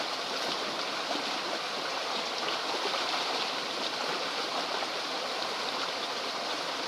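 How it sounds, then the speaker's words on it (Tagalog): Water rushing in a stream where people wash clothes by hand, a loud, steady, close hiss and babble that never lets up, with no talking. "dito kami sa sapa, naglalaba"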